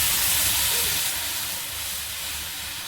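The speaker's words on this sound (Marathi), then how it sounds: "त्याच्यामध्ये पाणी ओतून घ्यायचं" Water poured into a hot pan of tempering with curry leaves and turmeric for Maharashtrian pithla, giving a loud, steady hiss and sizzle that eases slightly after the first second.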